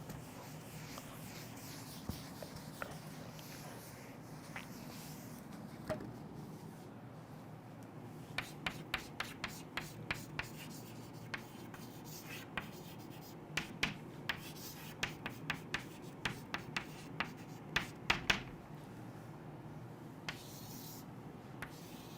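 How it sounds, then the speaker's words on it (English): Marker or chalk strokes on a classroom board during a biology lesson, a run of sharp taps and scratches that clusters densely in the middle and later part, close and fairly clear over a steady room hum with no talking. "So we will just write this down."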